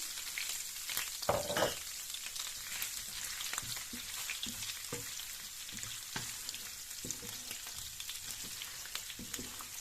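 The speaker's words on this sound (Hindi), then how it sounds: "अब मैं इसी ऑयल में ऐड करने जा रही हूँ गाजरें।" Carrots sizzle and fry in hot oil in a pan for Chinese fried rice, a steady close crackle with a few louder stirring bursts, no talking.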